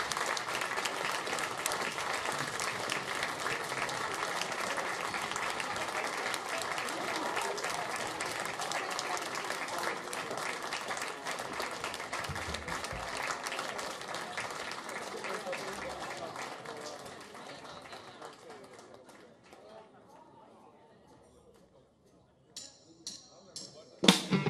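Audience at a vocal contest final breaking into long, dense applause that holds steady for about fifteen seconds, then gradually thins and fades out, followed by a few scattered sounds and a brief voice at the end.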